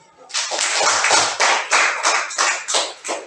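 Classroom audience applauding a student group after their presentation, a burst of close, dense hand clapping that swells and then fades in uneven pulses.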